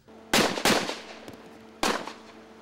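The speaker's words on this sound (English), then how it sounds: "shots are now being fired again" Three sharp, loud gunshots in quick succession during a police shootout at St Jago High School in Spanish Town, two close together then one after a pause, echoing against quiet background.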